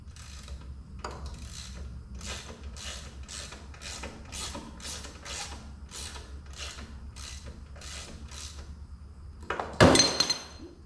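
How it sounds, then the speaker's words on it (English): Rhythmic metallic ratcheting as a bolt is turned off a John Deere 1B corn sheller, about a dozen evenly spaced clicking strokes close by, ending in a louder clank of metal. "Just taking this bolt off, I'm sure there is."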